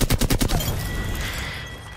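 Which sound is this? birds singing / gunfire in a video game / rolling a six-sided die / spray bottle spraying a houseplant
gunfire in a video game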